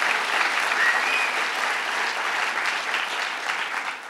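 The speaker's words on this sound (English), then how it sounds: "let's give them a round of applause and everything they do" A crowd at a hospital announcement event applauds, steady, moderately loud clapping from many hands that holds evenly throughout and tapers slightly at the end.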